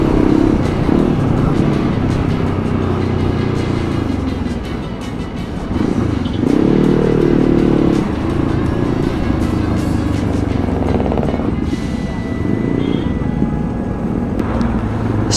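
A 525 DSX scrambler motorcycle with a 494cc engine being ridden in traffic, its loud steady engine drone rising and falling with throttle changes and heavy wind rush, close and continuous throughout.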